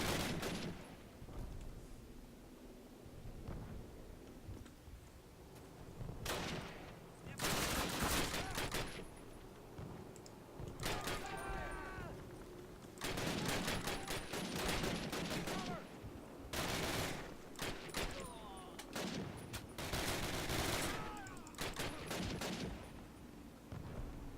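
Call of Duty battle with bursts of machine gun fire and scattered gunshots in repeated volleys, some distant and some close, with faint voices in between.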